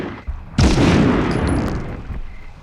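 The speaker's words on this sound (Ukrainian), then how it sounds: "На вам граната." A grenade blast in the 1999 Medal of Honor video game erupts as a single loud, sudden explosion, its broad rumble holding briefly and then rolling off into a long, fading tail.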